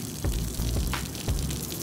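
Water running steadily from a tap or hose, a soft continuous gush with a few faint splashy bursts, moderately close and unaccompanied by talk.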